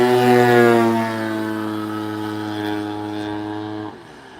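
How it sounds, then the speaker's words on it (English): An RC model aircraft engine during an outdoor practice flying session, a sustained buzzing drone with a steady pitch that lingers and reverberates off surrounding trees before dropping off near the end; no talking. "just standing out here hearing the echo of that engine off the trees is insane out here."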